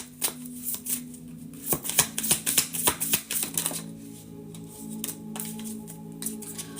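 Tarot cards are shuffled in a quick run of crisp riffling flicks and soft slaps, louder in the middle, with a low steady hum underneath.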